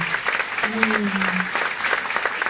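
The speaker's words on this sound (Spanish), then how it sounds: "un fuerte aplauso a Doña Silvina." A short burst of applause from a small audience after a lecture, steady clapping lasting a couple of seconds.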